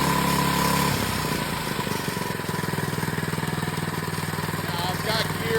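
The engine of a homemade walking machine runs at wide open throttle, a loud, steady, rapidly pulsing chug that holds throughout.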